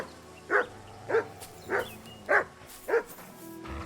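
A dog in the video game Kingdom Come: Deliverance 2 gives five evenly spaced single barks, about one every half second, fairly close over quiet ambient game sound.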